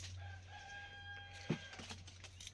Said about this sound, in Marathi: कोंबडा कसं कुक कुक करते